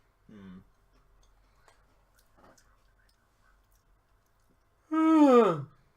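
A person yawns, starting with a short breathy onset and ending with a loud drawn-out vocal yawn that slides downward in pitch, with faint ticking and near silence between.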